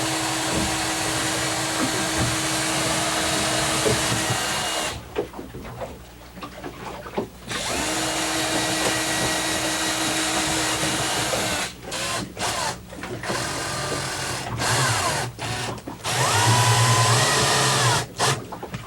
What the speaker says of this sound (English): we're going to pre-drill the holes